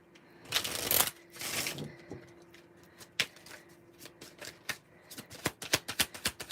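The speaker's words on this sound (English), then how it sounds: "Which makes me feel like maybe I didn't shuffle strong enough." Tarot cards are shuffled by hand with two longer riffling bursts, followed by a run of quick, crisp card snaps and taps that grow busier toward the end. No voices are heard.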